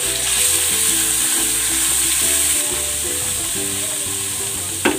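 Garlic sizzles in melted butter and oil in a hot pan, a steady close frying hiss that continues unbroken throughout.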